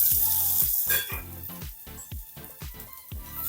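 Sliced onion sautéing in hot oil with whole spices for a green veg pulao, a short burst of close sizzling broken by repeated rhythmic scrapes and knocks of a spoon in the pan.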